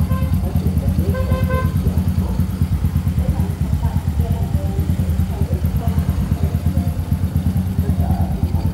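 A rebuilt motorcycle engine idles after repair in a workshop, running with a steady, even throb close by while a person talks over it.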